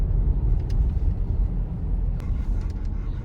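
Saturday city road traffic in Shivamogga, Karnataka, heard from inside a moving car: a steady low engine and tyre rumble with a few faint passing vehicle noises, no talking.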